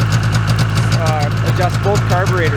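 A 1994 Yamaha Vmax 600 snowmobile engine idles steadily after its first start out of summer storage, giving a low, even rumble under someone talking about adjusting the carburetors.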